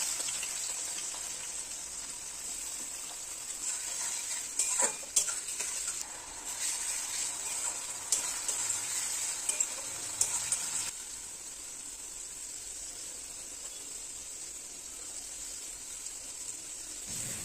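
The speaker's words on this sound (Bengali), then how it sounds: "এখন তেলে ফোড়ন দিয়ে পেঁয়াজ দিয়ে ভালো করে ভেজে নিয়ে তাতে আদা রসুনের পেস্টটা দিয়ে ভালো করে ভেজে" Onions and ginger-garlic paste frying in oil for a mutton curry, a steady high hiss of sizzling with brief stirring scrapes in the middle, then an even, quieter sizzle alone.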